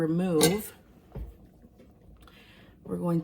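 A metal utensil scraping and knocking inside a pot of pozole verde broth while fishing out a big boiled onion, a few soft clinks between spoken lines, quiet and close.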